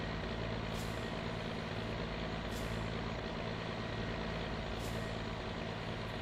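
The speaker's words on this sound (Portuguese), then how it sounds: "Olha o caminhão descendo." A truck in the video game My Summer Car rolls downhill, giving a steady, loud, broadband engine and road rumble with faint periodic hissing bursts like air brakes, no voices.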